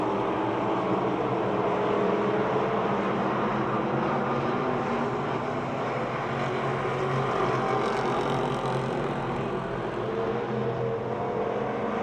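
Race car roaring around the track at Pennsylvania Motor Speedway in Pittsburgh: loud, continuous engine drone with a steady rumble and faintly shifting pitch, no voices.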